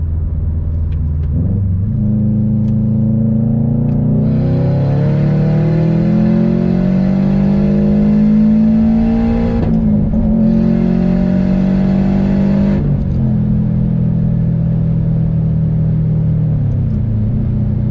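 A Subaru WRX/STI engine revs through its exhaust with a loud, close, rumbling drone that rises and holds for several seconds, dips briefly, then swells again before easing back to idle.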